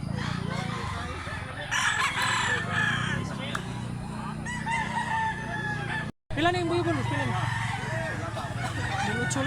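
Roosters crow repeatedly amid a busy chorus of clucking fowl, with steady low background noise and a brief dropout midway; medium-size black-legged rooster, in Mantalungon, Barili, Cebu.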